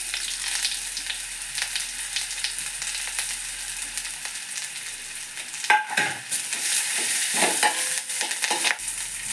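Crab sukka masala frying in a pan with onion, curry leaves and cumin: a steady close sizzle runs throughout, broken by scraping stirs and a burst of louder crackling partway through, with no voices.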